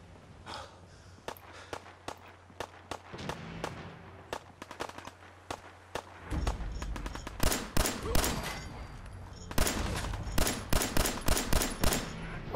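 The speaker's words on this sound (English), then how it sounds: "Oh, I hear gunshots." Rapid bursts of Fallout 4 gunfire crack repeatedly, sparse at first and then in dense volleys, sharp and fairly close.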